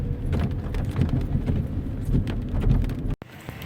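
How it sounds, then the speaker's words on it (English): Rain falling at a South Carolina welcome center, a steady dense patter with low rumbling background noise, continuous and fairly loud, briefly dropping out near the end. "It's raining again."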